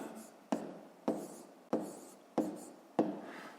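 A pen writes numbers on paper during a fifth-grade decimal arithmetic exercise, giving five short scratchy strokes at a steady rhythm, close and fairly quiet, with no talking.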